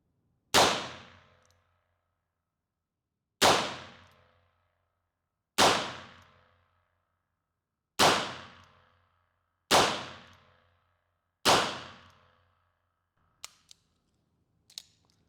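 Six sharp revolver shots from a Ruger ring out at steady, widely spaced intervals, each a loud crack with a decaying tail, followed by a couple of faint metallic clicks.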